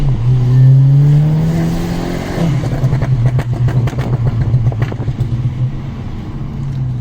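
Volkswagen Golf 6 GTI engine running at low revs, a steady close hum that rises briefly then settles into a rough, pulsing idle-like drone, with no talking.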